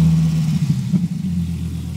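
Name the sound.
car engine revving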